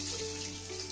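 Washed clothes spun in a washing machine are placed one by one into a basin of water for rinsing, giving a short, steady wash of splashing water with a low hum underneath and no talking.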